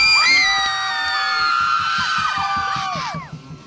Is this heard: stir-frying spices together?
no